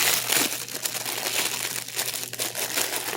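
Close crinkling and rustling of a thin clear plastic bag holding JOTO cable management sleeves, a continuous crackly handling sound with bursts of sharper crackles throughout, no voices.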